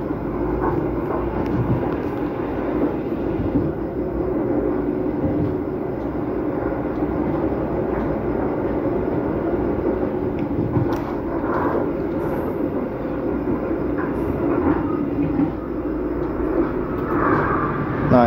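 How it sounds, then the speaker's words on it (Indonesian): The Jayakarta Premium, a long passenger train, rumbles past on the Bekasi–Cakung–Jatinegara line with a steady, loud roar of wheels and carriages that continues unbroken, with occasional clanks and rattles. "Nah ini ada kereta api Jayakarta Premium rangkaian panjang."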